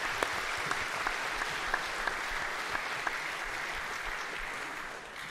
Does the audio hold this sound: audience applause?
yes